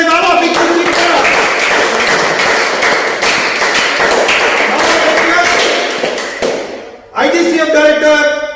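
An audience at a stage ceremony for a finals prize-giving claps steadily and loudly for about seven seconds, the applause thinning briefly before another burst of clapping resumes.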